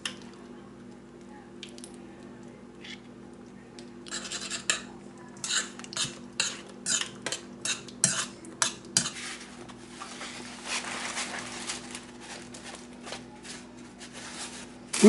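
Home-canned food gets mashed in a pot with bacon grease, a metal utensil striking the pot in a quick rhythmic run of close clinks and thuds through the middle, with quieter scraping before and after.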